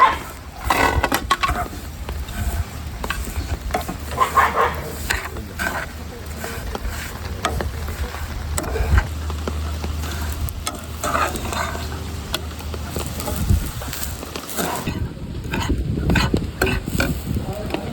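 Vermicelli with sugar sizzles in a frying pan as it is stirred, a steady crackle with scraping strokes and a low rumble underneath, close and fairly loud throughout.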